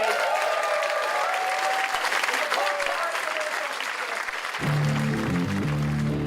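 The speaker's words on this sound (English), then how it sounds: "Have you applauded for Gary" An audience at a stand-up comedy show applauds in a steady, dense wash of clapping that lasts several seconds before music fades in at the end.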